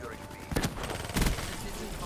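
Gunfire in a multiplayer shooter game, two sharp close bursts of shots about half a second apart over a low background.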